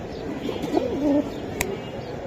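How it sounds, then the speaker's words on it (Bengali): Aluminium pigeons coo softly nearby, a few low rolling calls over a steady background murmur. "এটা অ্যালুমিনিয়াম কবুতর, দুইটাই অ্যালুমিনিয়াম কবুতর"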